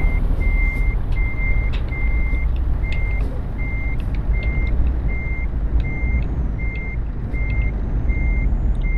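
Truck reversing alarm in Euro Truck Simulator 2: steady evenly spaced beeps repeating about every half second over a loud low engine rumble, continuing throughout.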